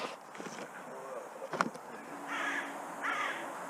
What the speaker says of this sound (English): Thank you, Mr. Crow